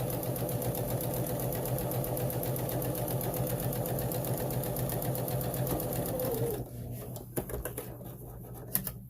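A sewing machine stitches a face mask in a steady, fast mechanical whir that runs evenly for several seconds, then stops, followed by a few soft clicks and handling sounds.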